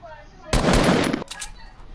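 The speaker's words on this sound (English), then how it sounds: "And then there's gunfire all over the place." Burst of automatic gunfire in a PS4 video game, loud and dense for under a second, followed by fainter scattered shots and background game noise.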